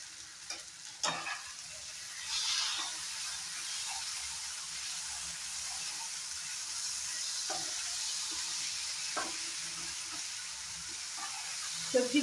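Vegetables frying with spices in a pan for an Indian paneer curry, a steady broadband sizzle with occasional scrapes and clinks from stirring, close and continuous.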